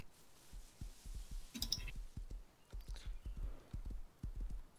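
Horse hooves clip-clop in the survival video game Rust, a crisp, steady run of hoofbeats in paired rhythm. They are close and clear over a quiet background, with a brief brighter clatter midway.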